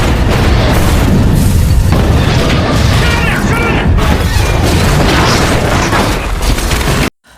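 Explosion from gas flow in an action film, a loud, sustained roaring blast with crashing debris that fills the scene before cutting off abruptly, under a voice talking.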